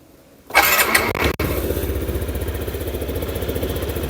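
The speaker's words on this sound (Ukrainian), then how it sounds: "Двигун працює без жодних нарікань." A Yamaha Gear UA06 scooter engine cranks and catches, revs briefly, then settles into a steady, rhythmic idle that chugs on close by.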